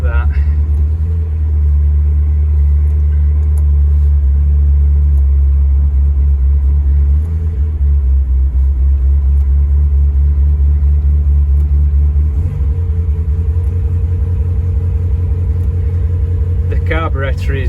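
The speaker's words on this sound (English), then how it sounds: "Carburetor is very worn, so that is hunting quite a lot." A Morris Minor engine with a badly worn carburetor idles close by in a loud, steady, deep rumble whose speed surges and sags unevenly as it hunts.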